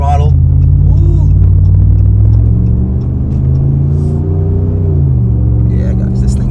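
A 2023 Ram pickup with a 5.7 Hemi V8 and Flowmaster Super 10 exhaust rumbles loud and deep, the engine note rising and falling as the throttle is worked, heard up close from inside the truck.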